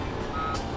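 Tractor reversing beeps from the Farming Simulator 17 video game, a short electronic alert tone over a steady low machine hum, brief and alone with no talk.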